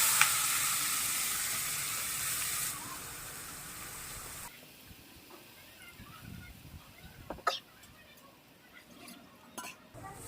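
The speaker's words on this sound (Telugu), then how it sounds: "4 లవంగాలు, చిన్న దాల్చిన చెక్క ముక్క, ఒక్క బిర్యానీ ఆకు వేసుకుని వెంటనే పేస్ట్ వేసుకోండి." Spice paste with cloves, a small piece of cinnamon and a bay leaf hits a hot pan, producing a loud sizzling hiss that fades into quieter frying with a few stirring scrapes.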